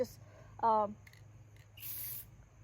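A short hiss of blue spray paint bursts from a can onto dried hydrangeas near the end, preceded by a brief squeak and a couple of small rattles.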